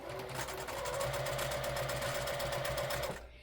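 A sewing machine stitches quilt pieces together in a steady, fast run of needle strokes for about three seconds, then stops, close and moderately quiet.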